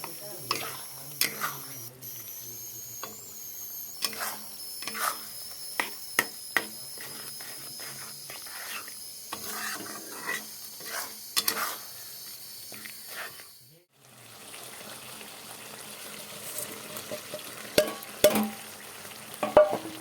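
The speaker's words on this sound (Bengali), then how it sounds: "মাছগুলো এখন মশলার সাথে আবার একটু কষিয়ে নেব" Pieces of rohu fish being stir-fried with spices in a pan, with a soft sizzle under repeated scraping and stirring strokes of a spatula, close by, plus a few sharper clicks near the end.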